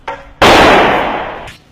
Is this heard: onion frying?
no